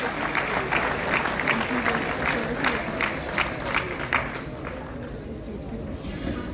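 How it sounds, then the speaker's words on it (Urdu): A conference audience applauds to welcome a chief guest, a crowd of clapping hands at moderate distance that rises and then gradually thins, with talk and crowd murmur mixed in. "میں چاہتی ہوں بھرپور تالیوں سے ان کو ویلکم کیا جائے."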